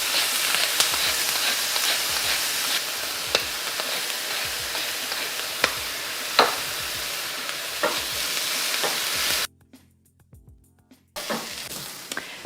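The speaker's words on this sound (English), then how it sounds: "While our onion and garlic saute, we'll get some prep for the greens." Chopped onion and garlic sautéing in about a tablespoon of olive oil, a steady close sizzle with repeated scraping stirs, briefly cutting out near the end before resuming.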